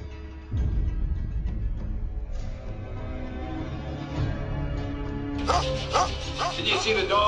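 A dog yips and whimpers, with high excited barks building toward the end, heard over and around people talking and a low background rumble.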